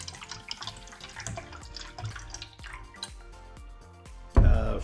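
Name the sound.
water being poured in for a water test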